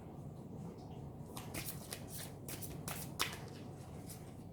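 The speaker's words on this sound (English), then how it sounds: "I'm going to pull some oracle cards now." Oracle cards being shuffled by hand for a tarot-style love reading, a quiet close flurry of riffling, flicking card sounds in the middle of the clip, with no talking.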